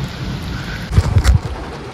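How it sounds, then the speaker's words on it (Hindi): Heavy monsoon-style rain pours steadily with a dense hiss at Katal Batal in Jammu and Kashmir, punctuated midway by a few louder thumps and splashes close by. "अच्छी खासी बारिश हो रही है"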